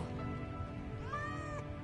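A cat meows in the Final Fantasy VII Remake video game, one drawn-out rising-and-falling meow over a low steady background hum, fairly close and clear.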